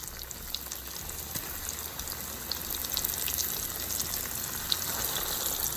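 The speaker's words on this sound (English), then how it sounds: "So the oil is nice and hot. We're gonna go in with our pork pieces." Breaded pork pieces with a cornstarch coating fry in hot oil, giving a steady, close crackling sizzle that swells slightly as the meat settles, with no talking over it.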